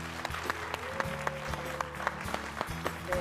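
Church congregation claps steadily to welcome a testimony speaker onto the stage, a sustained round of applause with distinct sharp claps up front and a low musical hum underneath, no talking.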